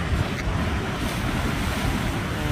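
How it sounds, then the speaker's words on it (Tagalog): Pacific Ocean surf rolling in from the shore, a steady loud wash of waves mixed with wind buffeting the microphone, with no talking. "I think this side is the Pacific Ocean."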